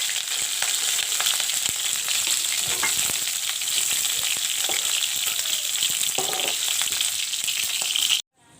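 Cauliflower pieces frying in hot oil in a pan, a loud continuous sizzle and crackle close up with occasional stirring clicks, cutting off abruptly at the end.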